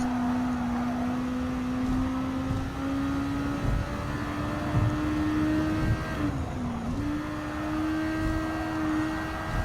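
A car driving in Gran Turismo 7, its engine holding a steady sustained tone with slight pitch shifts and a brief dip from gear change or braking, loud and continuous with no talking.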